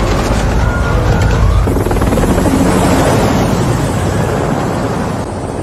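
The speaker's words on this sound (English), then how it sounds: "That's a different helicopter." A loud, steady helicopter roar with rushing wind buffeting the microphone, fading slightly toward the end.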